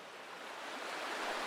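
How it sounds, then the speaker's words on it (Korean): Ocean surf rolls in as a steady, building wash of waves, swelling slightly louder toward the end, used as an eerie backdrop for a horror tale. "방금까지 들려오던 파도 소리가 더 커졌다고 생각한 순간"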